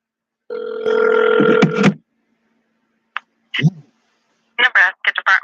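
A phone call to the Nebraska Department of Health and Human Services gives one long ring-back buzz, then silence, small clicks and brief bursts of a voice on the line.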